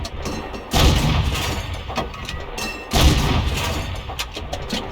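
Tank cannon rounds firing in a tank video game: two heavy booming blasts about two seconds apart, each followed by a rumbling tail, with lighter crackling impacts scattered between them.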